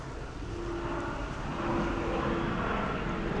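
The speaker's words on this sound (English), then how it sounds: "Yet another Heathrow aeroplane." An airplane on approach to Heathrow passes overhead near Windsor and Eton, a steady broad roar that swells slightly, heard from outdoors at moderate distance.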